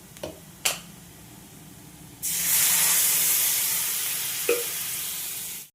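A few small clicks and knocks, then a sudden loud hiss as water hits hot white oil tempered with black cumin, the sizzle sustained and slowly fading, close up.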